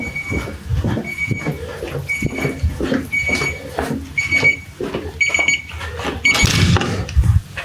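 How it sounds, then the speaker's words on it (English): Repeated high electronic beeps in short regular bursts from inside a hotel room, over a rumbling, clattering background, with a louder noisy burst near the end. "something's beeping at me"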